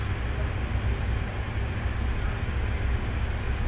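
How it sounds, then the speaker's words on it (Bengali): A train bound for Dakshineswar pulls into a station platform, a steady low rumble and rolling drone without breaks, fairly loud and constant. "এই যে দক্ষিণেশ্বর যাওয়ার জন্য ট্রেনটা চলে আসলো।"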